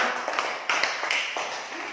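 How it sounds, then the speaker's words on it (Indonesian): Children clap their hands in a few quick, uneven bursts, moderately loud and close, with a voice heard amid the clapping. "Ayo tepuk tangan dulu semua."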